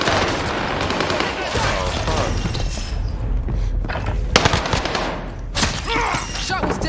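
Intense video game firefight with rapid automatic gunfire and overlapping shots in dense bursts, loud and close, with a few sharper cracks standing out near the end.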